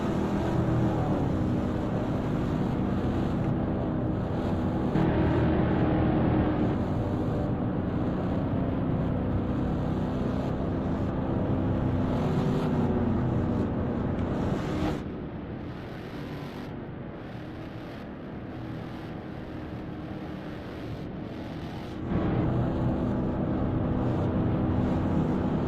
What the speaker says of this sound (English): I will be redlining first gear.